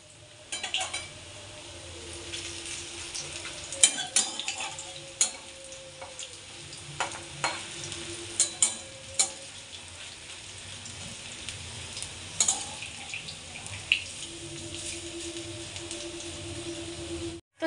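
Onion pakoras deep fry in oil over a low gas flame, giving a continuous bubbling sizzle broken by frequent clinks and scrapes of a utensil against the pan.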